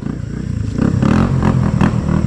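A motorcycle engine revs hard, loud and close, as the bike climbs a steep, high, slippery dirt hill on a rough rural track in Krayan. The engine note surges and rises through the climb, with rattling clatter underneath.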